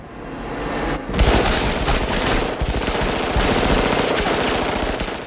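Dense automatic gunfire and heavy bursts fill the lobby shootout scene from The Matrix, a loud, continuous barrage of rapid shots with debris and impacts mixed in, sustained throughout.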